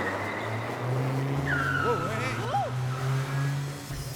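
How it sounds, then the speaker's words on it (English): A car chase tears through a shopping mall, with an engine roaring and tires squealing in short bursts under a continuous rumble, and a voice talking faintly alongside. "He flicks on the car, and the car chase begins."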